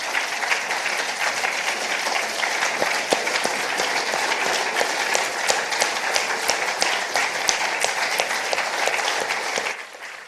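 Sustained applause from a large audience at a university campus event after a mayor's proclamation in Round Rock, dense steady clapping that holds for about ten seconds before easing off at the end.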